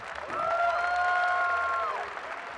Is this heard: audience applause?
yes